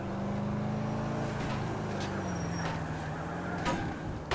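A car drives in the video game GTA IV, its engine humming steadily at moderate level with a few brief sharp knocks and scrapes.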